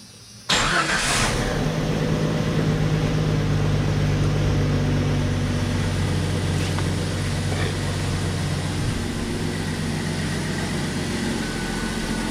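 A 1995 Jeep Cherokee engine cranks and catches, then settles into a steady, close idle that hums on without interruption.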